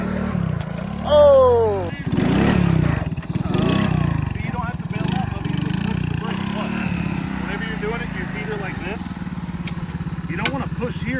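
A Honda three-wheeler ATV engine sputters and revs unevenly as the throttle is held and eased, close by and moderately loud, with people talking over it and instructing the rider.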